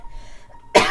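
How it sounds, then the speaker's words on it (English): A single sharp, close cough bursts out after a near-silent moment, loud and brief. "Sorry, I still have some cough."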